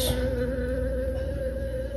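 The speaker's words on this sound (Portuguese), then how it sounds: "As abelhas estão sentindo o cheiro do jatobá por aqui." Bees drawn to the scent of jatobá biscuits being shaped by hand buzz close and steady for the whole stretch, a continuous droning hum with no talking.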